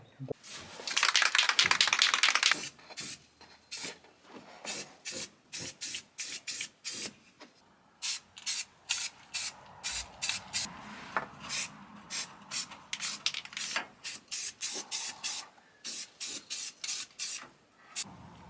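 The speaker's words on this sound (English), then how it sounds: "just give it the good old Rust-Oleum treatment" Rust-Oleum paint sprayed in many short, sharp bursts onto a heater core from a 1967 Impala, the hissing puffs close and repeated at an irregular rhythm with one longer spray near the start.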